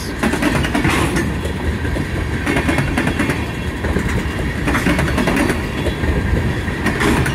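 A Conrail freight train of tank cars rolls past close by, with continuous rumbling and rhythmic clickety-clack of wheels over rail joints.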